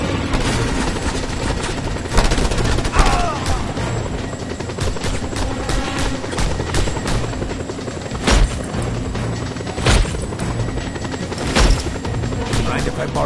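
In the Just Cause 2 video game, a helicopter's rotor thrums loudly and continuously while bursts of gunfire and sharp shots crack repeatedly over it.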